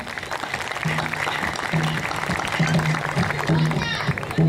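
Festival crowd clapping for a second guitarist at an outdoor concert, a steady moderate patter of hands while a low repeated instrumental tone pulses underneath and voices call out.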